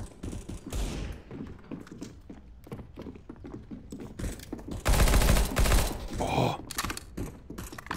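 Rapid bursts of gunfire from the video game CS:GO, a dense volley of shots rising loud in the middle and continuing in scattered reports, mixed with busy game noise.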